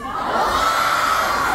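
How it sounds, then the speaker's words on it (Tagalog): A crowd at a mall event shouts and cheers together, a steady, loud roar of many voices sustained throughout without a break. "Kung masaya ang lahat, sumigaw ng gahawan?"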